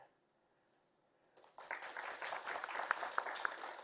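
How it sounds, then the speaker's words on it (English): After a near-silent moment, an audience bursts into applause for a volunteer at a youth commission honors event, the clapping swelling quickly and continuing at moderate loudness. "I'll give her a round of applause."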